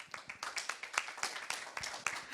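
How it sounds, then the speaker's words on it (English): An audience applauding at a global health sector strategy meeting. Scattered, fairly faint claps come in an uneven patter that keeps going briefly. "that deserves a round of applause as well"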